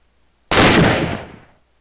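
A single unscoped Lee Enfield rifle shot from a WW2 guns mod in a video game: one sharp, loud, close blast after silence, ringing out for about a second before decaying.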